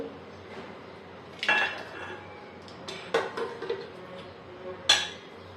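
Cooked dal is scraped into a steel cooking pot in a home kitchen, giving three or four sharp metallic clanks and scrapes of a utensil against the pot rim, separated by quiet gaps.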